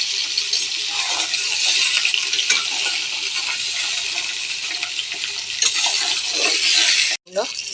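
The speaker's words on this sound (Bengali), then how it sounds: "আমি সরষের তেল দিলাম দিয়ে পটল কাটা হালকা ভেজে নেব" Sliced pointed gourd fries in mustard oil in a pan, a steady close sizzling hiss with light stirring scrapes, broken by a brief clatter near the end.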